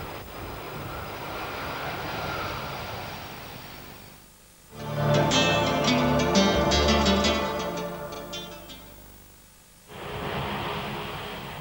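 Boeing 747-400 jet engines rumbling during arrival as power changes and flaps deploy, a loud broadband roar that swells, drops briefly, surges with a tonal whine, then returns, heard alone without voices.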